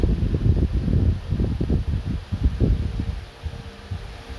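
Wind blows across the microphone in continuous low, gusting rumbles, fluctuating in strength and easing slightly toward the end.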